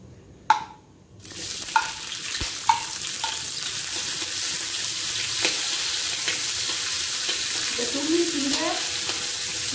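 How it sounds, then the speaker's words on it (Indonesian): Four whole spices drop into hot oil in a wok for a spiced mutton soup: a few sharp clinks and taps, then a sudden, steady sizzle that stays close and continuous, with occasional stirring knocks. "Minyak dah panas, kita masukkan 4 sekawan."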